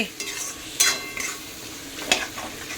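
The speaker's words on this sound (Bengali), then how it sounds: "এই যে মশলা কষছে" Masala spices frying in a pan while being stirred, with a soft continuous sizzle and two sharper scraping strokes of a spoon against the pan, close and alone without talk.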